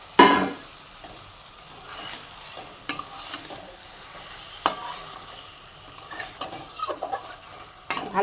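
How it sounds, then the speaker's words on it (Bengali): A spatula stirs fish curry with fried tangra fish in a pan, producing sharp scraping clacks at irregular intervals over a low, steady sizzle. "আমরা হালকা একটু নেড়ে নেব তরকারিটা।"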